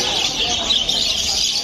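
Rainbow Dilute Golden Face parakeets in a busy pet market give off a steady, bright chatter of high chirps that continues throughout without a break.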